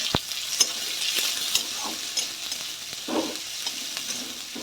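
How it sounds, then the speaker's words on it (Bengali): Two large chopped onions with bay leaves sizzle in a pan for a Bengali meat curry, a steady close crackle with occasional stirring scrapes and clinks, no talking. "তারপরে দুটো বড় পেঁয়াজকে কুচনো দিলাম।"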